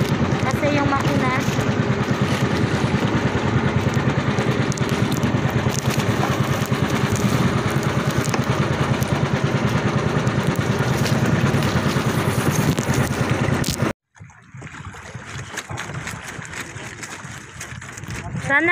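Engine of a fishing boat out at sea runs loud and steady with a rough, chugging drone and people talking over it, then cuts off abruptly, leaving quieter ambience before it starts to rise again.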